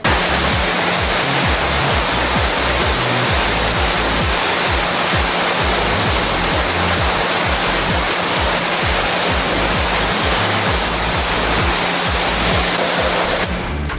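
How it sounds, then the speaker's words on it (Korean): Water sprayed onto a car bonnet during a glass-coating test, a loud, continuous rushing hiss of spray close up that runs steadily for the whole stretch, with no voices. "그럼 저희가 물을 한번 뿌려 볼 건데요"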